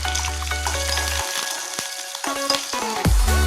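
Mustard seeds, onions and curry leaves frying in hot oil for an ivy gourd chutney, giving a steady close sizzle with a low hum early on and scattered light clinks and pops.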